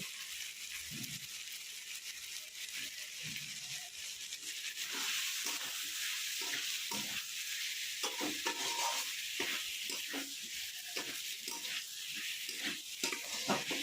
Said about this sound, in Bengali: এরপর আমি সেদ্ধ করে রাখা আলুটা দিয়ে কিছুক্ষণ কষিয়ে নেব।